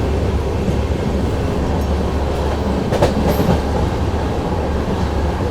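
A train runs along the rails with a constant loud rumble and a brief rattling clatter midway, with no voices.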